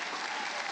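Audience applause: dense, steady clapping from a crowd, continuous and fairly loud throughout.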